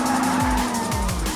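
A car performing a shift lock drift, with loud continuous tire squeal and skidding over a strained engine note whose pitch repeatedly drops and surges, close and intense.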